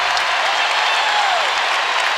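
Basketball arena crowd at a Florida at Kentucky SEC game, roaring and applauding steadily after a 6-0 Wildcats run, a dense sustained wash of cheering throughout.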